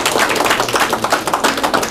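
A church congregation applauds for a pastor's wife during a service, a dense, steady wash of many hands clapping at once that fills the whole stretch without pause.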